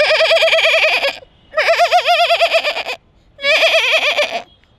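A man imitates the bleat of a female goat: three wavering, vibrato-laden bleats separated by short pauses, loud and close with no other sound around them.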